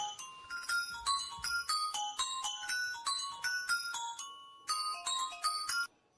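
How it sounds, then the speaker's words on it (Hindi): A mobile phone ringtone plays a bright, repeating chiming melody in bursts, loud and close, then stops abruptly. "देखो ये सो रहा है और इसका फोन बज रहा है।"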